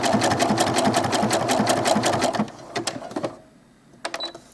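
A sewing machine stitches doll clothes in a fast, even burst of needle strokes for a couple of seconds, then slows and stops, leaving a few soft clicks and handling sounds.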